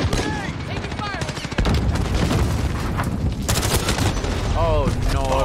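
Loud, rapid automatic gunfire and shots in a Modern Warfare multiplayer team deathmatch, continuous close bursts with booms, and game voice callouts over it.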